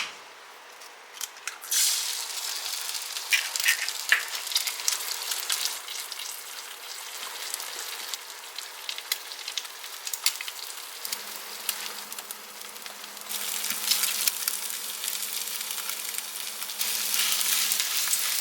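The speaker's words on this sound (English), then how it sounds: "I'm adding a little oil to my pan. I'm just going to fry up one egg." One egg fries in a little oil in a pan, giving a steady crackling sizzle that runs throughout at moderate loudness, with a faint low hum joining later.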